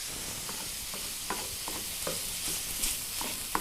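Food searing in a hot pan gives a steady, close sizzle, broken by intermittent scraping and clicking stirs.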